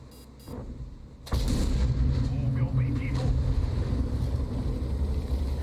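A tank cannon fires in World of Tanks on the Steppes map, a sudden loud boom that opens a sustained, rumbling roar of engine and battle noise, with faint quieter sounds before it.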